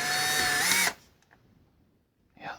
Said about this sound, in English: here's hoping my drill holds this little teeny bit